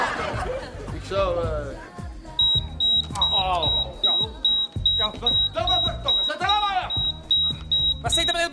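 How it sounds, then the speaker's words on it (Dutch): A burglar alarm rings as a steady, repeating beeping tone through a comedy scene, sounding over loud talk and laughter from several people. "het is die alarminstallatie dat ik moet installeren van Pascal tegen die brekers."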